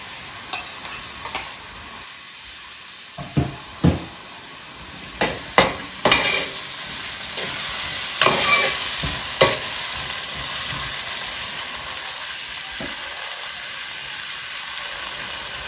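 Two chopped tomatoes go into a hot pan for prawn biryani and fry with a steady sizzle. A spoon scrapes and taps the pan several times over the hiss, then the sizzle settles to a quieter, even fry.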